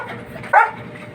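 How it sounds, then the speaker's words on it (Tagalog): A dog gives one short, sharp bark close by over a low background hum. "Ayun tahol siya"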